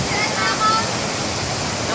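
A waterfall in Bataraza, Palawan, roars as a steady, loud rush of water that fills the whole scene.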